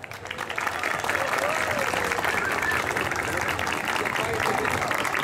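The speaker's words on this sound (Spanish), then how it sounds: "pido un fuerte aplauso para los padres" Audience applause at a Christmas lights concert by a municipal symphony orchestra in Santa Rita, swelling within the first second into a steady, dense wash of clapping that holds for about five seconds, with faint whistles or cheers mixed in.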